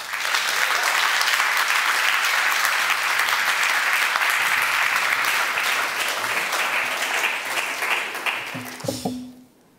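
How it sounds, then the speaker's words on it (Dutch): A large audience gives warm, sustained applause for a speaker being introduced, with a thick wash of clapping holding steady for about nine seconds before quickly dying away. "geef hem een warm applaus"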